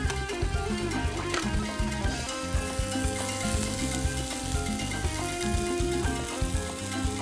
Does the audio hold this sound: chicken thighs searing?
yes